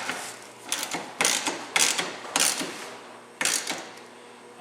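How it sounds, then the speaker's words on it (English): A hand ratchet wrench tightens bolts on a Ryfab cargo rack, giving several short bursts of quick clicking separated by brief pauses, close and clear with a faint mechanical hum beneath and no talking. "if you use your hand on the wrench, a ratchet like that, with your wrist action, it's kind of a natural torque wrench"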